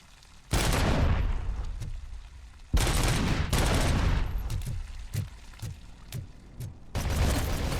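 Gunfire in the first-person shooter Robocop Rogue City booms out in heavy, loud volleys, with long reverberant blasts followed by a string of quicker, punchy shots.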